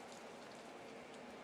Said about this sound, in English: Live look into our flooding rain at Guaranteed Rate Field.